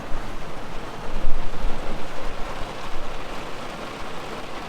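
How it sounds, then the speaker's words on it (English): Rain falling steadily on a camper van parked in Finland, a dense, continuous hiss with soft low patter drumming on the roof, fairly loud and even throughout with no voices. "Look at the rain."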